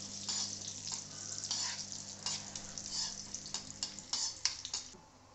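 Grated carrot sautéing in ghee in a pan for carrot halwa, with dry fruits already roasted in, gives a steady close sizzle broken by frequent scraping stir strokes, with a low hum underneath and no talking.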